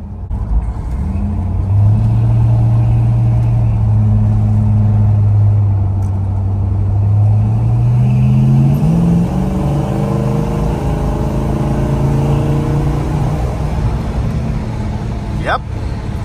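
A stock 1968 Dodge Charger with a 383 big block idles loud and close, with a rumbling low note that climbs in a brief rev before settling back to a steady burble.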